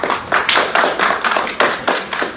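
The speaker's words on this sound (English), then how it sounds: "Everyone, please give Fur a round of applause." An audience at an improv workshop claps in a quick run of sharp, closely spaced bursts, fairly near and loud, with no talking.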